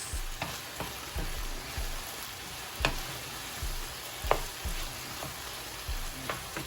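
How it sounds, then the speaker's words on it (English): Garlic frying in a pan sizzles steadily up close while a utensil stirs it, giving irregular scraping knocks every second or so, with no talking. "Stir it all together. Let it cook for about a couple of seconds."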